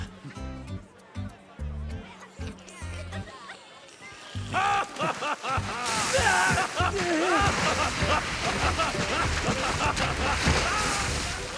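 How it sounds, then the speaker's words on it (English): Water splashes and sloshes at a sunny beach in an animated summer scene, with bursts of splashing rising and continuing among excited voices, laughter and music. "Watch where you're splashing!"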